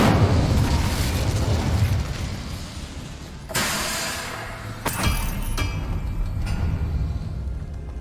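The Incendio fire spell is cast in the video game Hogwarts Legacy, giving a loud roaring rumble that drops away, then sharp bursts and crackles around the midpoint, continuing over a dense, noisy game background.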